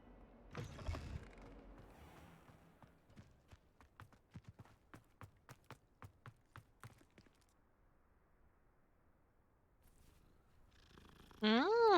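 A cat purring in the video game Hogwarts Legacy, a quiet run of about a dozen soft rhythmic pulses that fades out, with a brief louder rumble near the start and a tonal swell at the end.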